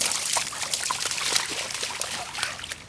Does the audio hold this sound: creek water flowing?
yes